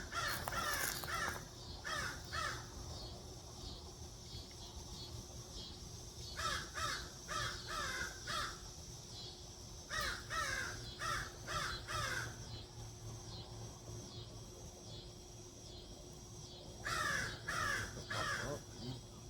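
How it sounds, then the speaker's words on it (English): Crows cawing in repeated bursts of harsh calls, several birds answering one another at a moderate distance over a steady outdoor background, with spells of quiet between the rounds. "There's fucking birds up here."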